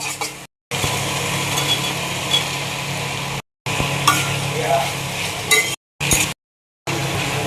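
Potatoes and soybean chunks fry in a pan of cooked spice masala, giving a continuous sizzle and stirring scrapes that stop abruptly several times.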